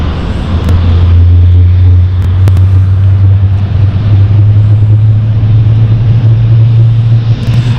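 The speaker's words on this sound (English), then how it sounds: "Edinburgh flight on final now." A passenger aircraft on final approach to London City Airport on the Edinburgh flight, heard as a steady, loud low engine drone that holds throughout, with a few faint clicks above it.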